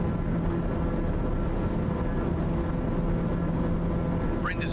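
Steady aircraft engine drone in Microsoft Flight Simulator 2020 just after a difficult takeoff, a continuous broadband roar with an even level throughout and a faint chirp near the end.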